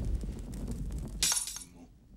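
Glass on a framed photograph breaks in the film Burnt by the Sun, a sudden bright shatter that follows a low rumbling scene and then fades into quiet.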